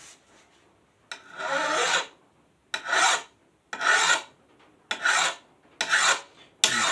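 A metal file rasps along the edge of a lawn mower blade to remove the burr, six firm strokes of about a second each, close and loud, separated by short pauses.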